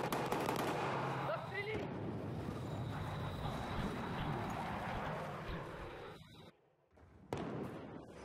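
Gunfire rattles through a Battlefield 4 match at E3 as dense, continuous automatic shooting and battle noise that drops out briefly near the end, with a player talking over it.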